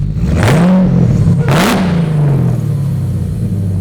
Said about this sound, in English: a lot of whine from the supercharger